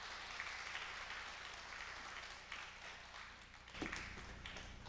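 A church congregation at a Wednesday prayer meeting applauds to welcome the pastor, a fairly faint but continuous roomful of clapping heard from a distance, with a bump near the end.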